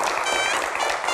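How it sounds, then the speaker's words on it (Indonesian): Studio audience at a televised Q&A talk show applauds to welcome a guest, a dense, steady wash of clapping that stays loud and close throughout, with a few whistle-like tones riding on top. "Kita berikan tepuk tangan yang paling meriah."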